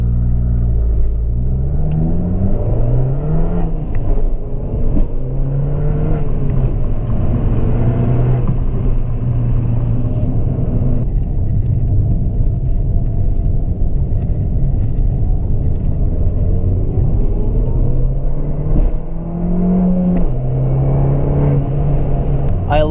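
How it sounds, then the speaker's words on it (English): An Abarth 695 Esseesse engine on a B-road drive, heard from inside the cabin as a loud continuous rumble that rises and falls with repeated revving through the gears, with someone talking over it. "I love when the valves open and you like hear the engine scream."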